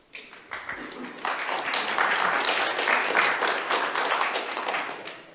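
A crowd in the chamber applauds at a Grants Pass city council meeting, a dense, loud wash of clapping that swells after a brief start and holds steadily for several seconds.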